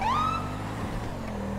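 A police car siren in the video game GTA V gives one rising electronic wail that quickly fades, leaving a low steady engine hum beneath.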